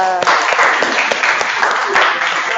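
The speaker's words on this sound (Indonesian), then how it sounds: "kasih tepuk tangan untuk Yuda" Classmates clap for a student named Yuda in a classroom, a quick burst of many hands with distinct individual claps, loud and close, tapering slightly at the end.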